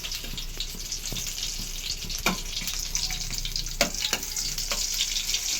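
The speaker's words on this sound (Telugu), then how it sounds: "ముందుగా ఆయిల్ హీట్ అయ్యాక వెల్లుల్లిపాయలు అయితే వేసాను" Garlic frying in hot oil with a continuous close sizzle and bubbling crackle, punctuated by a few sharp pops and clicks of a utensil; no talk.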